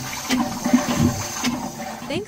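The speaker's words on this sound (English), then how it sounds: "On the top, you see the motor who starts the flush." A sensor-activated Minflush toilet, motor-driven and built by a university student team, flushes with a rushing gurgle of water that stays fairly loud and steady for about two seconds before draining off.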